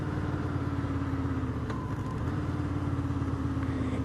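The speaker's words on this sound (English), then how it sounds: "the more I listen to that V4 downshift, I like it" A Honda Interceptor V4 motorcycle on the road gives a continuous moderate engine drone mixed with rushing air, holding steady without clear breaks.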